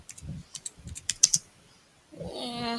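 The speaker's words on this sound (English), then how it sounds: "if I do a typing test, I'm gonna try to do it very slowly" A computer keyboard is typed on slowly, with scattered clicking keystrokes that stop, followed by a voice making a drawn-out playful vocal sound.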